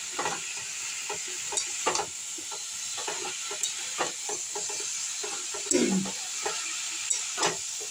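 Ginger paste frying in a pan for a cauliflower and egg dish, a steady sizzle with scattered scraping stirs and soft knocks of a spoon against the pan.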